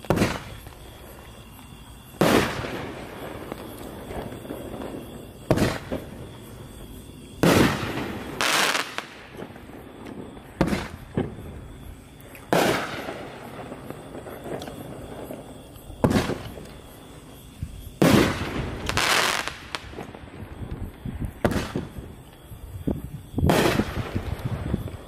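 3-inch NOAB firework cakes from Pitbull going off outdoors, a series of sharp booming bursts at irregular intervals, each followed by crackling and a fading rumble, loud and close with no talking.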